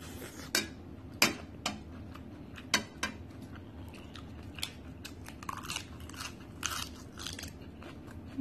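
Someone eating a spicy corn salad with fresh shrimp, close crunchy bites and chewing with occasional clinks of cutlery on a dish, no talking.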